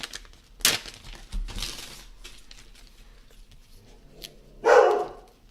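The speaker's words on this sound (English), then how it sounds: "it's always pleasant when Sammy Bear starts barking" A dog barks in a few sharp bursts at close range, with a louder bark near the end and some clattering in between.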